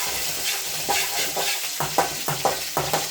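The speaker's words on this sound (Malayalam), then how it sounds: "കറിവേപ്പില നമ്മളൊന്ന് ഇളക്കി യോജിപ്പിച്ച്" Curry leaves and mustard seeds sizzle and crackle in hot oil for a Kerala jackfruit dish, with repeated scraping stir strokes of a spoon in the pan, close and steady, no voices.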